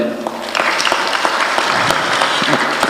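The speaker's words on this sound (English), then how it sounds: "can we just clap for them?" Audience clapping at a memorial event for Wafula Chebukati, which swells in after a brief quieter start and continues as a dense, sustained round of applause from a crowd, close and strong.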